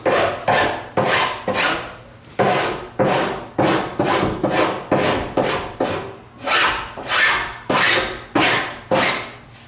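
Hand file rasping excess edge banding off a custom wooden cabinet, about twenty brisk, evenly spaced scraping strokes close up, each a short rough swish with brief pauses between.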